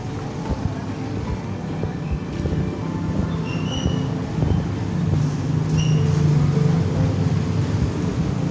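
Banyu Biru passenger train running between Semarang Tawang and Solo Balapan, a steady low rumble of rolling wheels and carriage noise with faint brief high squeals from the wheels, heard continuously from on board.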